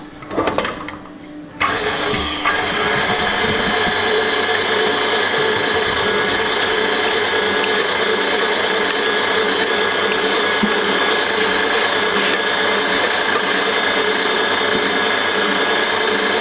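An electric mixer whips cold cream and cream cheese. After a brief quieter start it switches on and runs as a loud, steady motor whir with no pauses or talking.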